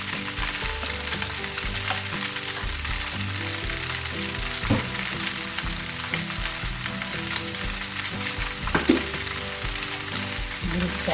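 Rice vermicelli with meatballs and carrot, stir-fried with soy sauce and oyster sauce, sizzles loudly and steadily in a pan close up, with a couple of clinks from stirring and no talking.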